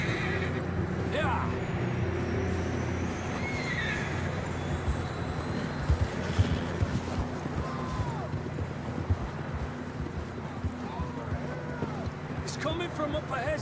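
Horses whinny and neigh several times in Red Dead Redemption II, with hoof clip-clops and ambient outdoor game sound beneath, as characters talk throughout.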